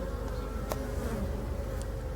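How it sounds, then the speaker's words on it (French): Black honeybees buzz steadily around a hive on a late-February day, a dense continuous drone of many wings close by with no voices. "moi je suis en abeille noire, c'est une abeille qui sort par tous les temps"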